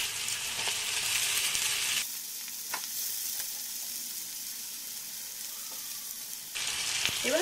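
Chowmein noodles with half-fried vegetables sizzle steadily in a pan while being stirred and mixed, a continuous hiss that loudens at the start and end, with occasional scrapes and no talking.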